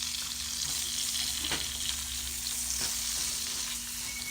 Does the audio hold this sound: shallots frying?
yes